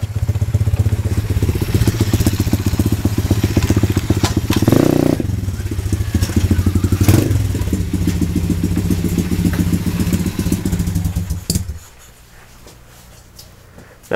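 A pit bike engine runs with a rapid, loud, rough rhythmic exhaust chatter, broken by a few backfire pops, for about twelve seconds before cutting out to quiet.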